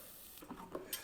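Onions sweating in butter in a pan give a faint, steady sizzle with a few quick stirring scrapes over about a second, close and soft.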